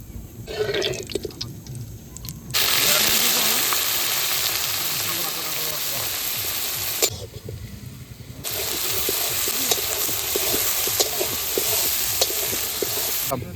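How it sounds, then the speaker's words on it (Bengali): Oil with garam masala and small and large bay leaves sizzling in a pan while chicken is cooked at a riverside picnic, a steady loud frying hiss with stirring scrapes, briefly dropping then resuming. "প্রথমেই তেল দিয়ে দিলাম, দিয়ে দিলাম গরম মশলা আর ছোটো বড় তেজপাতা।"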